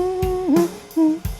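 Draft chorus of a home-recorded song played back: a short melodic phrase of sustained, gliding voice-like notes over low rhythmic thumps, moderately loud and heard alone.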